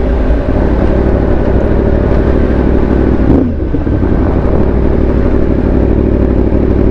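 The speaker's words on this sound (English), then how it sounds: "I'll be excited just from the sound of this bike and how it feels is enough." A Yamaha R1 sport bike engine runs loud and close in a steady, unbroken drone, with one brief rushing swell near the middle and no voices.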